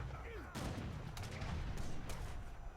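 Booming heavy cannon fire from a real-time strategy game, several rumbling shots overlapping in a dense, continuous barrage.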